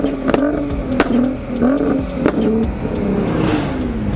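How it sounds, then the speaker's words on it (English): A Volkswagen Golf R engine revs up in several sharp blips, its rising and falling pitch loud and close, with crackling pops between the revs and no talk. "Would you give us a couple revs quickly to hear what it sounds like?"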